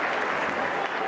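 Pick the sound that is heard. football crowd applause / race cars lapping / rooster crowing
football crowd applause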